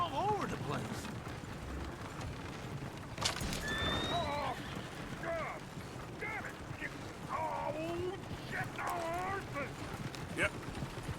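Horses in the Red Dead Redemption 2 video game neigh and whinny several times and hooves clip-clop, close and moderately loud, while people talk over them.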